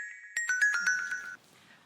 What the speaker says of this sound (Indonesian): Ini dulu sebentar ya, saya mau angkat telepon dulu nih